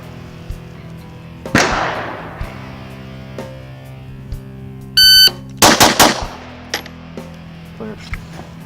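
Glock pistol shots ring out on a range, several sharp cracks spaced apart with a tight cluster of rapid reports near the end, loud and close, along with a brief electronic beep and metallic clinks.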